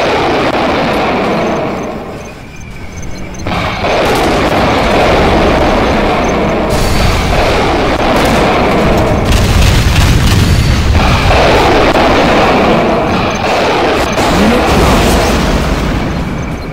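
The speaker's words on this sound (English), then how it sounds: "Multiple launch rocket system." A multiple launch rocket system fires in Command & Conquer Generals Zero Hour, loud booming launches and blasts rolling one after another for several seconds, with brief lulls between the bursts.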